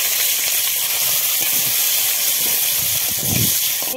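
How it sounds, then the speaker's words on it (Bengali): Potato pieces frying in a little oil in a home kitchen pan, a steady close hiss and sizzle running throughout, with a few soft stirring knocks near the end. "আলুগুলোকে একটু ভেজে নেব।"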